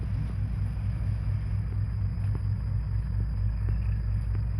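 A Kubota L5018 tractor engine idles close by, giving a deep, continuous rumble with a faint regular throb and no voices.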